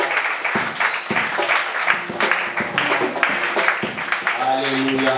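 A church congregation applauds and claps steadily in praise of the Lord, loud and continuous across the whole stretch, with singing and voices mixed in under the clapping.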